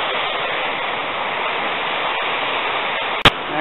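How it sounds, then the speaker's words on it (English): A garden waterfall gives off a loud, steady broadband rush of falling water that holds unbroken throughout, with one sharp brief click near the end. "Look at that, the waterfall."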